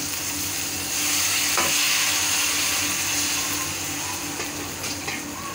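Loud, steady sizzling fills the whole stretch, a harsh continuous hiss of hot water hitting a hot pan of frying potatoes and okra, with no voices.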